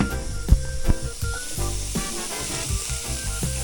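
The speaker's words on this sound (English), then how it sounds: "You gotta toast your curry. So I like to put it in the pan just like that." Curry powder toasts in a hot pan over low heat, producing a steady sizzling hiss with a few soft clunks and stirring sounds, close and without speech.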